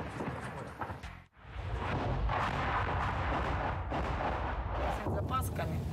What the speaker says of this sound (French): vous entendez les bombardements qui ont juste là-bas